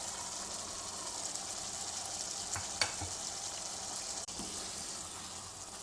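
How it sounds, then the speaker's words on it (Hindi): Chicken capsicum masala frying steadily in a pan as green bell pepper is added, a soft continuous sizzle with a few brief clinks and stirring knocks, no voices. "अब मैं इस स्टेज पे शिमला मिर्च ऐड करूँगी।"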